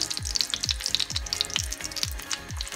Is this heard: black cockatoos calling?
no